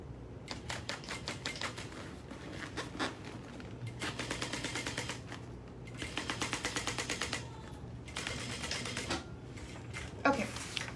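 A sewing machine top stitches a bag in several quick, rapid-fire bursts of rattling stitches with short pauses, faint and close.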